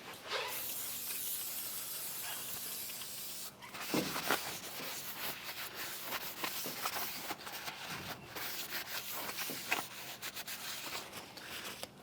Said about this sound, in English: use some brake clean to clean off any shipping oils or greases that may have gotten on there